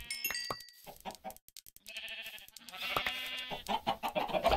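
Chickens clucking in the Minecraft video game, a run of busy clucks and squawks, close and fairly loud, heard alone without any talk.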